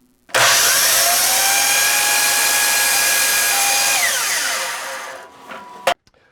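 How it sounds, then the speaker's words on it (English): A power saw trims the bottom of a wooden door stile. It starts abruptly with a loud, steady whine that holds for several seconds, then winds down and stops, with no talking. "the next step is to trim off a small portion of the bottom of the Stile"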